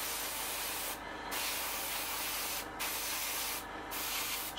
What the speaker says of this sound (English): spraying the extra dark sea grey areas in.